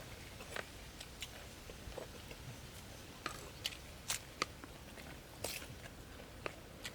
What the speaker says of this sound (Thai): กินเขาแซ่บ